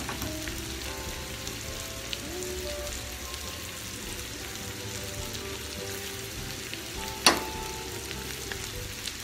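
Large beef steaks sizzle in a frying pan for a Brazilian filé à mineira, a steady, fairly quiet crackle running throughout with a single sharp clatter near the end.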